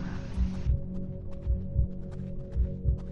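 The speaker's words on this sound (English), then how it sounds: "You gotta really pay attention to your heartbeat on this." A heavy, muffled heartbeat thumps in a video game, landing in paired double beats at a steady pace over a low droning hum, with a burst of hiss fading out at the start.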